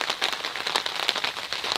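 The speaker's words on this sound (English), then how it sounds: "It's hailing right now." Hail coming down outdoors in Kentucky, a dense, steady clatter of countless small impacts pattering on surfaces with sharper ticks scattered throughout, close and continuous with no voices.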